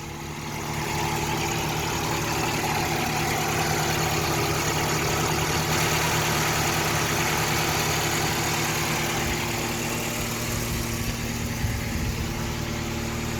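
A warm Volkswagen engine idles steadily after a key start, a smooth continuous hum with a slight rattle, heard close and at an even level for the whole stretch, without talk.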